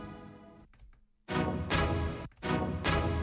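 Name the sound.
layered orchestral strings bounced from Kontakt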